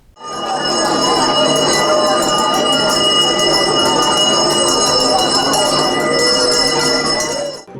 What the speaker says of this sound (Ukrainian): Гучний звук першого шкільного дзвоника